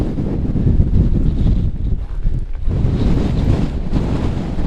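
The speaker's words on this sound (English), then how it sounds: "A bit windy." Strong wind buffets the microphone in a steady low roar on a UK hilltop, dipping briefly midway before gusting back up; no voices.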